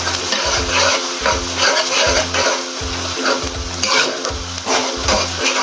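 Garlic ginger paste frying in a pot for chicken biryani, a loud, close sizzle with rhythmic scraping strokes of a spoon stirring it every half second or so, and no talking.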